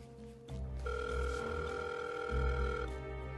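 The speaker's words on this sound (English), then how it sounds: "Okay, it's ringing." A telephone rings through a handset, calling a district attorney's office, a steady electronic tone lasting about two seconds over a low background hum.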